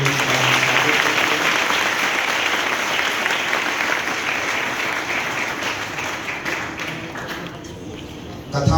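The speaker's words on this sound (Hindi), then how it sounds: "जोरदार तालियों।" A live audience bursts into sustained, loud applause as Sai Baba arrives at a religious katha gathering, dense clapping filling the whole stretch and tapering slightly near the end.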